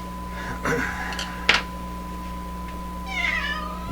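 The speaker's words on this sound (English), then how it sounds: "I just turned and looked at my cat." A house cat meows in a workshop where a large Sparton 1567 tube radio is being aligned: a short close call around the middle and a longer, fainter meow near the end, over a steady electrical hum.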